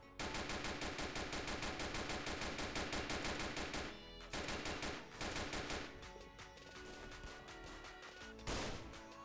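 Sniper rifle fire in the Notruf Hamburg police game during an SEK shift, heard as rapid, loud, sharp shots in dense bursts separated by short pauses, with no talking.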